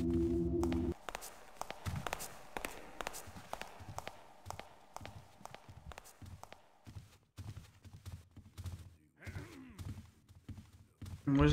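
A guard's footsteps patrolling in the stealth game Thief: a steady run of hard, evenly spaced footfalls on stone, fairly close, with a murmuring voice underneath and a few brief pauses.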